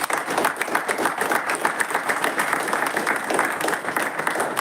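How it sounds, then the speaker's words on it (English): An audience at a Toastmasters club meeting in Gurgaon applauds the role players, a full room of steady, dense clapping that holds at an even level throughout. "give a huge round of applause for all the role players"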